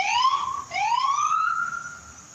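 An ambulance siren wails loud and close, its tone sweeping down and rising again in a couple of long swoops as it passes, over low background rumble; no talking.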